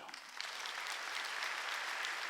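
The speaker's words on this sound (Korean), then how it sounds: "이 사람의 박수 좀 쳐줘요" A congregation at a Korean church's Wednesday service breaks into applause, a dense, steady clapping from a large crowd that holds at an even level from start to finish, heard at a distance.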